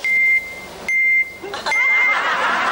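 A phone call signal cutting off: a steady high electronic tone sounds in three separate stretches with short gaps between them, loud and close, with faint rustling in the breaks and no talking.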